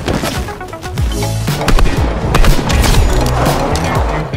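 Combat pistol fire in a shooter video game, a run of sharp, loud gunshot bursts and impacts crowding together over a few seconds amid busy game noise.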